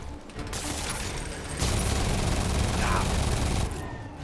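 Rapid bursts of enemy gunfire in Marvel's Spider-Man Remastered, a dense, continuous clatter of shots that grows louder partway through and holds steady, with game effects layered underneath.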